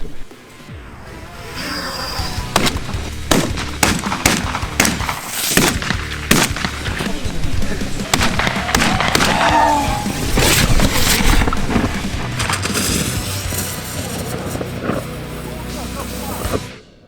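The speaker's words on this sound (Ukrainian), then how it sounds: "Сьогодні ми стріляємо більш крупними номерами дробі." A shotgun fires large buckshot, including 0, 00 and 6.5 mm shot, at a drone-attack simulation: loud, sharp shots in irregular succession over a noisy outdoor background, with voices talking between the blasts.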